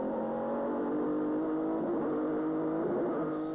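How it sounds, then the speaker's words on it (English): Jaguar V12 race car in a 1999 FIA GT race, its engine droning loud and steady with rising pitch as gears snap up on the sequential gearbox, heard alone. "snapping up those gears on the sequential gearbox"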